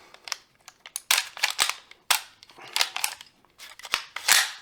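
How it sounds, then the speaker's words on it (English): Metallic clicks and clacks from handling the bolt of a Sig Sauer MPX-K carbine, a series of sharp close mechanical snaps and rattles in quick irregular succession, no talk. "So now the bolt is locked with the bolt lock right here."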